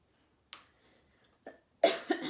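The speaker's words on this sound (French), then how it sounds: "Je suis là, puis je tousse, tu vois." A person coughs in a few short, close bursts: a faint single cough, another small one, then a louder double cough at the end.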